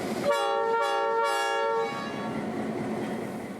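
Locomotive 8330 at the Florida Railroad Museum sounds its horn in a loud, close blast lasting about a second and a half, leaving a low diesel engine rumble as it notches up to leave the house track for the main line.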